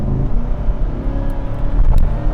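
A 2024 Corvette 2LT V8 accelerates hard at about half throttle. It makes a loud, close, rising roar that builds toward the end of the short burst, with no talking over it.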